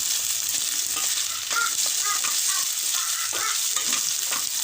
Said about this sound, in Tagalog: So, fry lang muna natin siya hanggang sa mag-golden brown. Yan, halo-halo lang tayo.